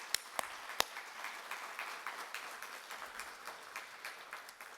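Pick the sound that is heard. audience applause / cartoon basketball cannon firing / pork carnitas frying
audience applause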